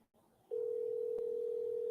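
A telephone dial tone plays over a speakerphone, a single steady hum that starts abruptly after a brief near-silence and holds unbroken at even loudness, with a faint click partway through.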